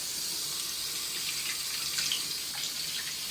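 Heavy rain pouring down in Houston, a dense, steady hiss of falling water heard nearby, constant and even with faint splashes, no voices.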